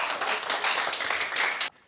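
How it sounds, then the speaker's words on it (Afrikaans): An audience claps hands together in a dense, steady burst of applause at a South African storytelling event, continuing for nearly two seconds before cutting off abruptly near the end. "So, kom ons gee my lekker hande klap, julle."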